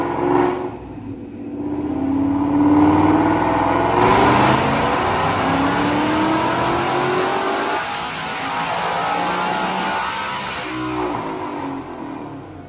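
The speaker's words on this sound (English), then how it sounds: "Check out this dyno pull." A 2019 Mustang with a Roush supercharger, headers and E85 fuel revs hard on a dyno, the engine climbing loudly and steadily for several seconds, then easing off and settling back down.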